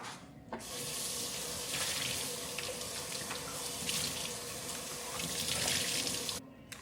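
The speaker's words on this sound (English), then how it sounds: "I have one pan soaking and then I'm gonna wash out my cup" Tap water running steadily into a kitchen sink during dishwashing, a constant close splashing hiss broken only by brief pauses at the start and end.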